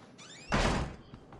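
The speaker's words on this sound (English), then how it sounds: "you can't understand how much noise he makes when he shuts a door" A door slammed shut in the horror video game Outlast: a faint creak, then a single heavy, loud thud that rings briefly and fades, followed by a few soft clicks.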